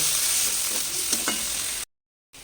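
Spices with Kashmiri chilli powder and ginger paste frying and being stirred in a pan, a close sizzle with a few soft scraping strokes of a spatula before the sound cuts out briefly.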